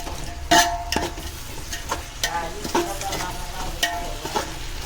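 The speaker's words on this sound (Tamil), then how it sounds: "இப்போ இதெல்லாம் நல்லா கிளறிக்கணும். இதுவும் நல்ல தக்காளியோடு சேர்ந்து நல்லா வதங்கும்." Mutton biryani masala with tomatoes being stirred and sautéed in a pan: steady frying sizzle broken by repeated scraping stir strokes and a few sharp utensil knocks, close and fairly loud with no talking.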